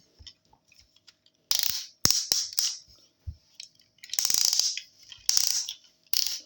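Ratchet joints on a Masterpiece Shattered Glass Optimus Prime toy click sharply and loudly in short bursts of stiff ratcheting, with quiet gaps between each movement.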